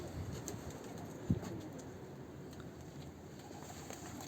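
Pigeons, young birds among them, coo faintly in a loft in Istanbul amid a low background hum, with one soft call standing out and no talking.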